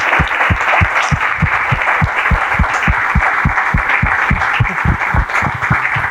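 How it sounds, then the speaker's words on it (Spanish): An audience at a library talk applauds three speakers, loud, close clapping with a strong regular rhythmic beat running throughout. "A los tres les vamos a dar un aplauso y las gracias"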